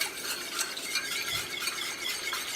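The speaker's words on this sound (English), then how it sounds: "What I'm going to do now, I'm just going to get my flour mixture. We're just going to mix that up." Light scraping and clinking of a spoon working a flour mixture in a bowl for beef stew, close and fairly quiet, with irregular strokes and no voices.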